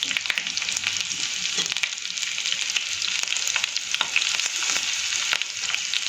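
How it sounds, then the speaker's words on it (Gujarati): Mustard seeds and chopped green chilies sizzle and crackle continuously in hot oil for Rajasthani dal baati, with scattered sharp pops and a faint stir, and no talking. "ત્યારબાદ લીલા મરચાં સમારેલા છે એને આપણે આમાં એડ કરી દઈશું."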